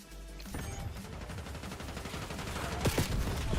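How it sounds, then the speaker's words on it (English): Dense automatic and rapid gunfire from a Call of Duty match, continuous and loud throughout with bursts layered over one another and a sharp louder volley near the end. "why am I getting shot from fucking behind?"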